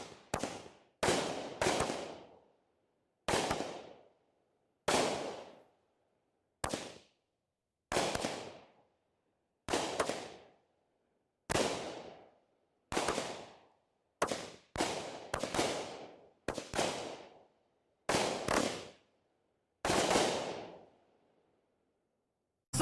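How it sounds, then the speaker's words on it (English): Sixteen-shot, 200-gram Super Mad firework cake by Supreme Fireworks: a rapid run of sharp, loud bangs fired one after another, each ending in a short crackling decay, heard alone outdoors. "It's a 16-shot, 200-gram cake from Supreme Fireworks."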